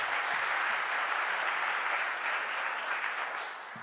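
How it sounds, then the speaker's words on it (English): Sustained applause from the audience at the Philadelphia mayor's first budget address, a dense steady wash of clapping that holds loud, then tapers slightly toward the end. "Give that a round of applause"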